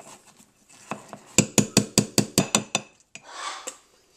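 A spoon clinks against the sides of a mug about ten times in a quick, steady rhythm while stirring crumb coffee cake batter, with softer scraping before and after the bright, close taps.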